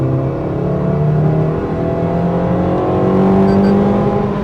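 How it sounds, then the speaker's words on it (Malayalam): A Maruti Suzuki Fronx Delta Plus AGS with a K-series engine hums close and loud in a smooth, sustained rev, its pitch climbing gently with a steady whirring drone and no voices over it. "കാല് കൊടുത്ത റെവ് ചെയ്യും"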